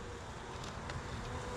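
A steady, faint hum of many honeybees buzzing together at a hive, continuous and unbroken, with no voices.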